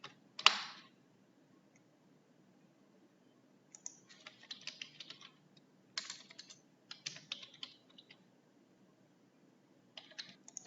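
Keystrokes on a computer keyboard while typing values into CSS code: a sharp click near the start, then short bursts of quiet tapping separated by pauses, with no talk.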